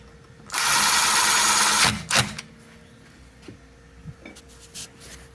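A power driver runs a retaining screw into the rear brake drum of a 2012 Chevy Cruze: one loud, sustained whir of about a second and a half, then a few sharp clicks and light taps.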